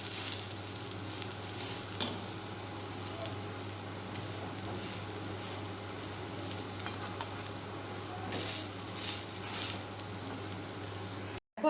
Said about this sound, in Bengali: অবশ্যই কিন্তু গ্যাসটা কমিয়ে ভাজবে একটু।